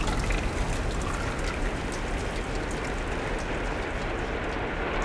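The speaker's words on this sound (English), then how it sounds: "Oh, look, it's still raining." Rain falls steadily in the dark side-scrolling game Limbo, a dense, even hiss of downpour that holds at the same level throughout, with no voices over it.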